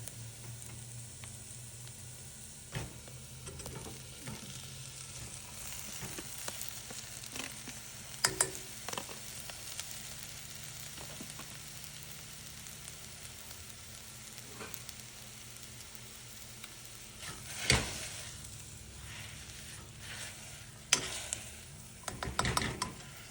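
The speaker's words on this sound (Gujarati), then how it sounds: "થોડી વાર મિક્સ કરી પછી એના અંદર બટાકા નાખી દેવાનું." Spice mixture and potatoes stirred and fried in a pan for a spicy Indian bbq sandwich filling, with steady soft sizzling under repeated scraping strokes and a few louder clanks of the utensil against the pan.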